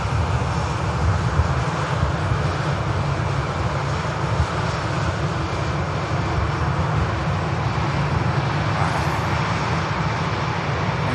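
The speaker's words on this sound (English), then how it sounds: "KLM on the departure roll now." A KLM Airbus A321neo jet rolls for departure, its engines a steady broad roar that holds evenly at moderate distance throughout.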